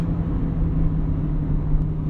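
Steady low engine drone of a 1999 Honda Civic Si with a five-speed manual, heard from inside while driving, a constant close rumble with road noise and no talk.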